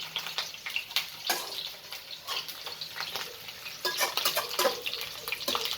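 Onions frying in a pan for mutton curry, a steady close sizzle broken by repeated stirring scrapes and crackling bursts, no voices.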